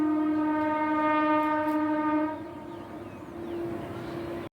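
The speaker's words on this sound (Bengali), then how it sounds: "থ্রু ট্রেন যাচ্ছে।" A through train passes, sounding a long, loud horn blast held for about two seconds over a steady rolling rumble that continues after the horn stops.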